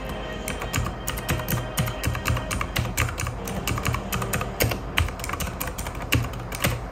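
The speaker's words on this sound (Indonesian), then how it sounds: "Yang ni dia mechanical punya keyboard." Rapid, clicky typing on a mechanical keyboard with blue switches, close and crisp, keystrokes coming in quick uneven bursts with no talking.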